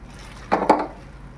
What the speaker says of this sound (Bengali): ভেজে রাখা পনিরগুলো দিয়ে দিলাম